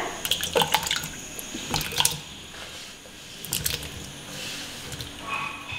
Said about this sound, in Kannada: ಇದನ್ನು ನೀರಿನಲ್ಲಿ ಹಾಕ್ಕೊಳ್ಳೋಣ, ಇಲ್ಲಾಂದರೆ ಕಪ್ಗಾಗ್ಬಿಡುತ್ತೆ.